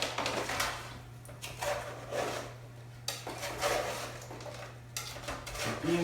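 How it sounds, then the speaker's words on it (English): A spatula scrapes browning beans and carrots across a pan, producing a series of rough, close scraping strokes with soft sizzling beneath and a steady low hum throughout. "this is a great time to go through with a spatula and just scrape it up"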